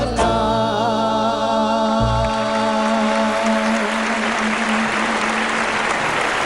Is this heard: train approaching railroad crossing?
no